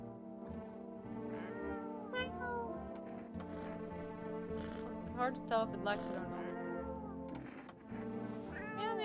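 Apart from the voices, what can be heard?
cat meowing while being petted in the video game No I'm Not a Human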